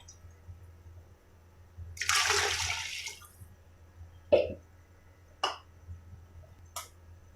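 Water is poured into a pot of rice in a kitchen, a roughly one-second splashing pour heard close, followed by a few short, sharp clinks or drips at intervals.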